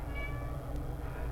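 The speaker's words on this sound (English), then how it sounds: "Is somebody calling for me? Oh, yeah. That was the safety cat." A cat gives a single short meow over a steady background hum.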